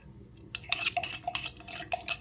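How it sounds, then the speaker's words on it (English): A spoon scrapes and clinks against a bowl while it stirs microwaved chicken, making a quick run of sharp metallic taps and scrapes, close and fairly quiet. "just stir it around."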